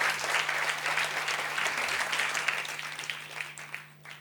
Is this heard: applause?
yes